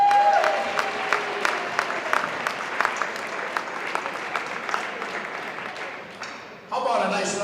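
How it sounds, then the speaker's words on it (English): Applause from a crowd at a Pacelli boys basketball game honoring the players' parents, steady clapping with scattered sharp claps across the whole stretch, swelling louder near the end. "How about a nice round of applause for our Pacelli boys basketball parents?"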